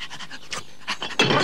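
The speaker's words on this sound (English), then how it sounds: "And Bumpy would like to be a milkman's dog" A cartoon dog panting in quick, breathy bursts, close and fairly soft, with rhythmic huffs across a second and a half and no speech over it.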